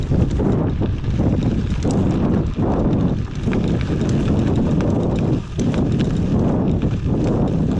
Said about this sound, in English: that wind is kind of crazy today